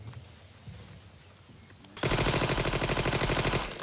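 Rapid machine-gun and rifle fire from a WWII paratrooper battle, a dense loud burst that erupts suddenly after a quieter stretch of distant rumble and continues steadily to the end.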